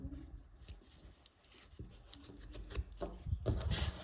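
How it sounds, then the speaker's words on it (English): Scissors snip off yarn after crocheting a Christmas ornament, a few quiet close cuts with soft rubbing of the yarn, rising a little toward the end, no talk. "then we can cut off the yarn"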